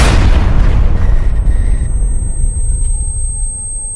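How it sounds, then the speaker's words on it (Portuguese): A single heavy explosion from a shoulder-mounted cannon booms loudly, then its deep rumble slowly fades away. "e explode no meio de tudo."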